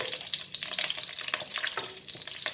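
Whole garam masala and green chilies sizzling in hot oil in a pan, a steady crackling fry with brief spatters and stirring, close and fairly loud with no talk.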